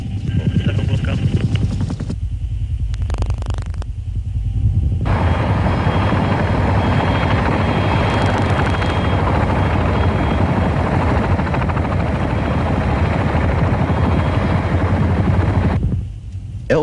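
An AH-1 Cobra attack helicopter flies near a Marine expeditionary airfield, its rotor thudding loud and steady for most of the stretch, dipping briefly early on and fading near the end.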